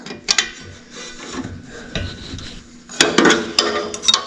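A wrench working a bolt loose on the engine head of a barn-find International Super A tractor, with close scraping, rubbing metal and several sharp clanks as the wrench slips, loud and near, with no talk.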